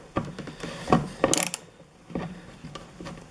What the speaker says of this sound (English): We're trying to test the tools, see how well they work. So we're going to go ahead and use a standard socket and